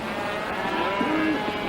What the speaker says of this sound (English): I told you, rawhiders, that was Priest's cattle.